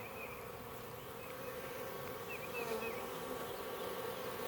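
Honeybees from a newly installed package buzz and fan their wings in a dense, steady hum close to the hive.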